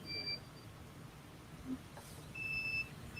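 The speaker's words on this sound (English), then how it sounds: "The remote controller beeps continuously," An FPV drone remote controller emits short, faint, high electronic beeps in two separate bursts while binding during Betaflight setup, with a quiet room hum underneath.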